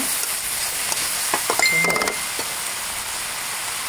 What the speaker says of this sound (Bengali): ধনিয়া পাতা দিয়ে একটু কষিয়ে নেব।